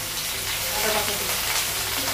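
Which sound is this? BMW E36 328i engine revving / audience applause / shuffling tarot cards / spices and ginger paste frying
spices and ginger paste frying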